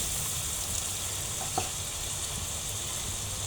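Shrimp frying in oil in a home kitchen pan, a soft steady sizzle and hiss with a faint stirring scrape, quiet and continuous without talk.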